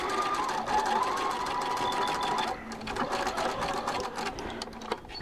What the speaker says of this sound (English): we're going to sew back up the other side